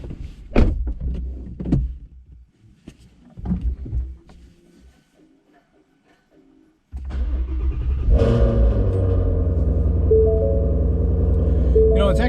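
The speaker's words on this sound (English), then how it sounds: "I bet they can hear me start up the car." A Shelby Mustang engine cranks and fires, settling into a loud steady rumbling idle that runs to the end, after a stretch of quieter thumps and movement inside the car.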